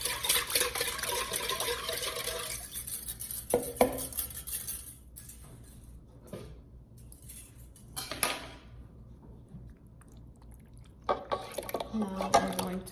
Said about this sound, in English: I'm gonna mix this well.